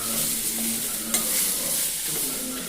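Tomatoes and onions sautéing in a pan for onion chutney, a steady close sizzle with soft stirring scrapes and one brief clink, no voices.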